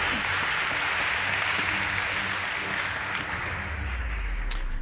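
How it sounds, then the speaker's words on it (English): Audience at a school debate competition between Light Academy and Aga Khan Academy in Mombasa applauds steadily for a team's score, a dense, sustained clatter of clapping filling the hall throughout. "Please give them a round of applause"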